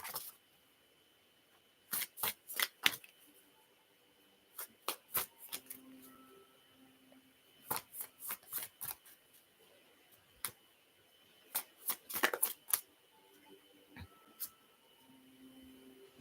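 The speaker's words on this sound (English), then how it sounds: "So I'm shuffling this card for Queen C" Tarot cards are shuffled in quiet bursts of crisp riffling snaps, grouped in short clusters with pauses between, close and fairly soft against a faint background hum.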